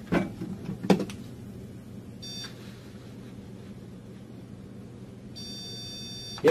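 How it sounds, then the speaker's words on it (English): An electronic stud finder is passed over a wall while a pull-up bar is being mounted. It gives two short high beeps, one early and one near the end, with light knocks and handling noise in between. "we'll run a quick pass with the stud finder just to make sure we really did hit a stud here"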